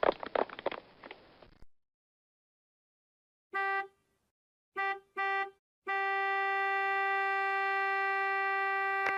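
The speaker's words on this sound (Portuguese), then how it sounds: "Buzina!" A brief rush of noise, then a car horn honks in two short blasts, a quick double toot, and finally one long steady blare.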